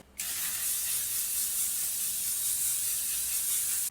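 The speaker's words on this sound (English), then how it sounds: "For setting spray, you already know we're gonna use the L'Oreal Infallible Setting Spray." A single continuous spray of L'Oreal Infallible makeup setting spray hisses for several seconds, starting abruptly and holding a steady, close, airy burst until it stops.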